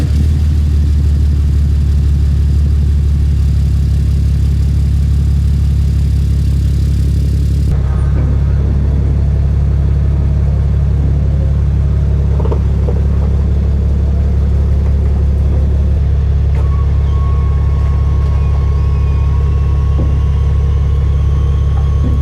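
A dually pickup truck, the Ostacruiser, idling and backing up on icy ground: a heavy, loud continuous engine rumble with a steady low drone, a shift in tone partway, and faint whirring overhead, no talk.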